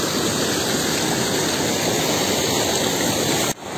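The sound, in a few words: waterfall near a temple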